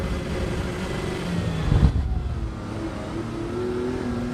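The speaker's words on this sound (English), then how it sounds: "bass sounds of that exhaust" Race car exhaust from a driving sim, Assetto Corsa EVO: a steady deep engine drone with a brief louder rev swell near the middle, then settling back into a continuous bassy hum.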